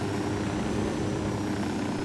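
Helicopter in the video game Ghost Recon Wildlands, a steady loud rotor and engine drone hovering close and unchanging throughout, with no talk over it.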